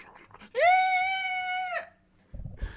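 A person vocally imitates a horse arriving, producing a sustained, screechy, whinny-like cry that sounds more like tyres screeching, about a second long, bracketed by faint shuffling and a brief thump afterward.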